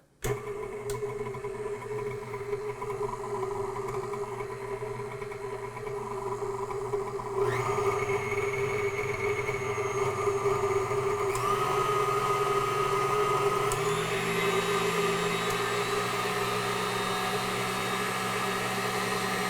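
A KitchenAid Artisan stand mixer with faulty gears runs on its lowest stir setting, giving a steady close mechanical whine and gear hum that shifts pitch a couple of times, with no talking.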